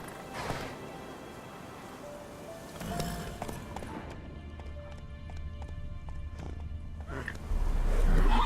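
Roach, a horse in The Witcher 3, gallops with rhythmic hoofbeats and a whinny, moving amid game ambience and music, with the hooves growing louder and closer at the end.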